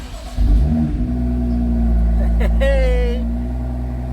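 A 2018 BMW M2 F87 engine starts up and settles into a steady idle, loud and close, with a brief spoken word near the start.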